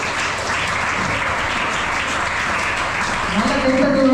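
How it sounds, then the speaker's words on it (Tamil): An audience applauding at a school event celebrating a student's new world record, dense continuous clapping from a crowd, with a voice speaking over it near the end. "ஒரு பலமான கைத்தட்டல் கூட"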